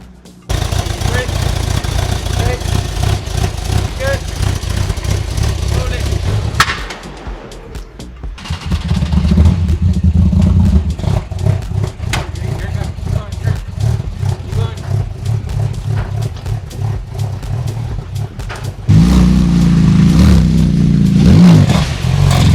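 Lamborghini Urus in limp mode on a tow truck, its engine idling and revving in rough surges with clattering bursts and abrupt level changes, while people talk over it.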